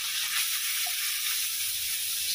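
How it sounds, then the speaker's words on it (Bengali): Garlic tempering in hot ghee in a home kitchen, a steady close hiss and crackle of frying that keeps the same level with no break. "রসুন দিয়ে বাগার দিলাম"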